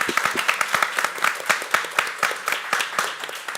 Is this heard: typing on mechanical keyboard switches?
no